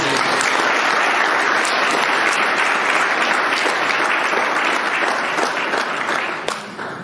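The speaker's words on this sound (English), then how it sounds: "can we give the Ritz-Carlton a round of applause?" A large audience at an evening event gives loud, sustained applause that stays dense and even throughout before easing slightly at the very end.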